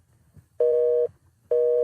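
A telephone busy signal sounds twice as loud, evenly spaced beeps with short silences between them, alone and close.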